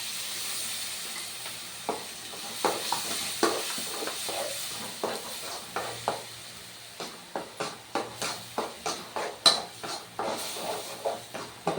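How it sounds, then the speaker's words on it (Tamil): Ingredients frying and being stirred in hot oil in a pan, with a steady sizzle under repeated scraping and stirring strokes that come faster and louder toward the end. "இந்த பச்சை வடை போகிற வரைக்கும் நம்ம எண்ணெயிலே வதக்கிக்கணும்."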